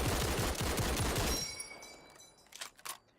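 Burst of rapid automatic gunfire from a WWII shooter game, loud and dense for about a second and a half, then cutting off into a quieter tail with a few faint clicks and sharp mechanical clacks.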